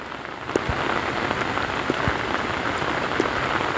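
Dense, steady downpour of heavy rain drumming on surfaces, with scattered louder drips and taps; no voices.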